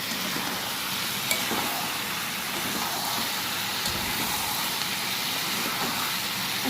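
Fried chicken pakoras tossed in masala in a pan for chili chicken, giving a continuous, even sizzle throughout with no speech.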